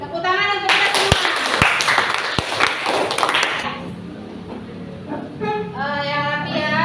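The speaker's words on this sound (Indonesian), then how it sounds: "Tepuk tangan untuk kita semua." A classroom of young pupils clapping hands together, a burst of bright clapping with a few sharp louder claps, mixed with children's voices, then fading as children keep chattering and calling out.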